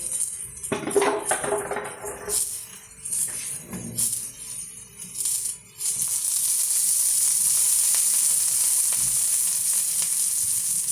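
A few clinks and scrapes in a pan, then a sudden loud, sustained sizzle as onions hit hot oil and keep crackling.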